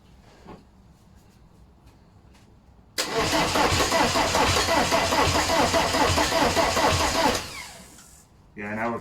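A VW TDI diesel engine on a garage floor cranks and catches at about three seconds, then runs loud and rough for several seconds before cutting off, with brief faint sounds before and after.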